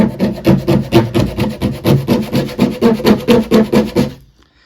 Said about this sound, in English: This is actually a wallpaper tool, but it has a good scraper on it. So literally been scraping.